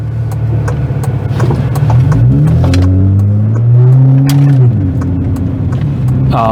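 A car cruising at night on Harborside Drive on Galveston Island: a steady close engine drone that climbs and falls in pitch as it accelerates through a turn, with a faint voice briefly underneath.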